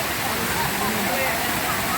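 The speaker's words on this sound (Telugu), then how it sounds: "water falls" Falling water at Ananthagiri Hills, Vikarabad, pours in a dense, constant roar at close range, while a voice talks under the noise.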